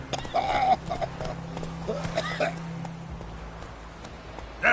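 Hooves of the horse Roach clip-clop in The Witcher III as it is urged along, a steady rhythmic patter under a low drone, with a voice talking over parts of it.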